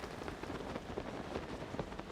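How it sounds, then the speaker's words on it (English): Rain in the video game Tears of the Kingdom falls as a steady, soft patter of drops on surfaces, faint and continuous with no voices. "Now, this is horrible that it's raining."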